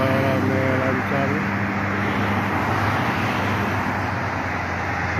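Busy traffic streams along a Jakarta toll road seen from Halim station, a broad continuous roadway roar with passing vehicles; a brief tonal hum fades early, and the wash stays steady and fairly close.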